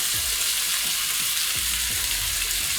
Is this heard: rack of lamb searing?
yes